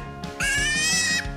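A piglet lets out one shrill, sustained squeal lasting under a second. It is loud and close, with faint grunting or shuffling just before and after.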